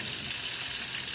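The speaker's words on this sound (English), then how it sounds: "because you're still frying your fish." Fish fillets, grouper fingers, frying steadily over low heat in a pan, giving a continuous soft hiss and sizzle with no pauses or voices.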